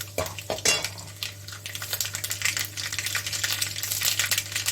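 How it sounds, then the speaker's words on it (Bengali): Black mustard seeds drop into a hot oiled pan for lemon upma, already holding chana dal, and set off a close, busy crackle and sizzle with a few metallic clinks of a utensil against the pan at the start, no talking. "আমরা এখন এখানে দিয়ে দিচ্ছি এই যে সর্ষে, কালো সর্ষে,"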